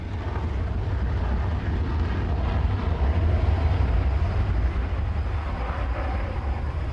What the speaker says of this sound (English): The GR4 is the RAF's frontline strike attack aircraft.